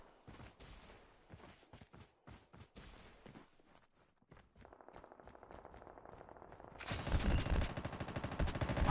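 Gunfire in Call of Duty Mobile, including an M16 and an M4 light machine gun setup, in a solo-versus-squads match: bursts of rapid shots and automatic fire build to a loud, dense volley toward the end, with footsteps between.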